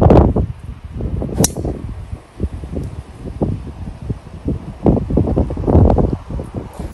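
Gusty wind buffets the microphone in uneven bursts on a golf course, with rustling and low rumbling swells rising and falling throughout.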